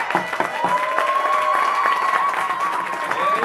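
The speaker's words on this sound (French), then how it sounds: "S'il vous plaît, on applaudit Ésope." A crowd applauds a slam poet at a poetry slam final in south-west France, a dense, lively burst of clapping with some cheering, and a faint tone rising through it.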